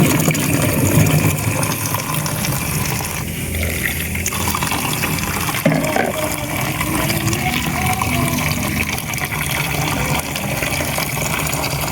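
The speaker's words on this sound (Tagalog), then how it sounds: "Hugasan muna natin guys." Aratilis berries rinsed under running water, a steady splashing trickle from a tap or pump that runs without pause at close range.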